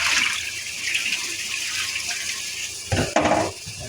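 Water pours into a pot of washed Aila rice, a steady close rushing flow that swells into a louder splashing gush near the end, without speech.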